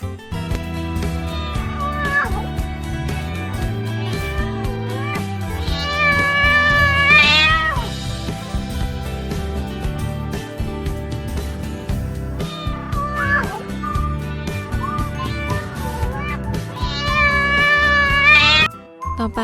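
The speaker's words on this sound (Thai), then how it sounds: "ฟังเสียงร้องของแมวกันนะคะ" A cat meows repeatedly, several loud drawn-out wails with long pauses between them, over a steady musical backing bed.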